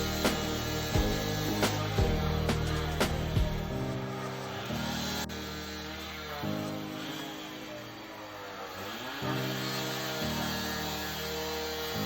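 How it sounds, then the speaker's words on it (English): A power tool cuts excess 3/8 rebar off the supports of a pool under pop-out repair, with sharp impacts early on, then a steady loud grinding drone that persists close by for the whole stretch. "Cutting the excess on the supports, cut them to size."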